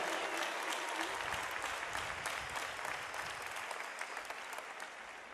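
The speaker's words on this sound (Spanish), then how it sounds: "¡Ay, les aplaudís también, claro!" A church congregation at a Mass during World Youth Day in Lisbon breaks into sustained applause for the Jesuits. The dense clapping from a large crowd holds steady and fades slightly toward the end.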